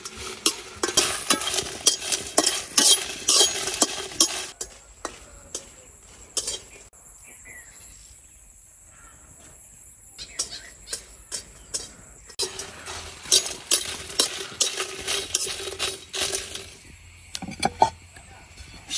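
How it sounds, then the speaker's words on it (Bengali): Dried red chillies dry-roast in a pan with no oil, tossed with bursts of rattling, scraping stirring up close, then a quieter pause before the rapid stirring picks up again. "শুকনা মরিচটা শুটকির ভর্তার জন্য নিছি, আর এটা একদম শুকনা খোলায় ভাজতেছি"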